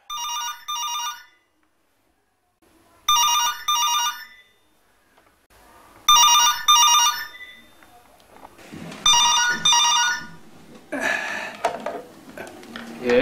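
An old-style telephone rings in four loud, evenly spaced double bursts, with faint rustling and clattering between rings that grows busier toward the end.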